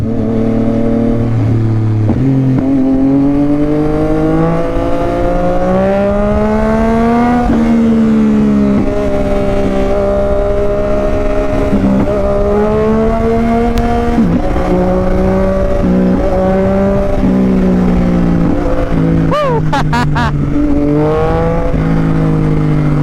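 A Yamaha XSR-900 motorcycle fitted with a drift exhaust rides and revs continuously, its loud engine note rising and falling through throttle changes, close and steady with no talk.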